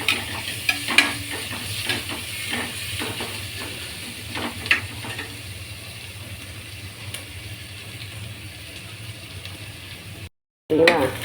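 Onions sautéing in a pan for spinach biryani, a soft steady sizzle with intermittent stirring scrapes, fairly close, and a brief dropout near the end.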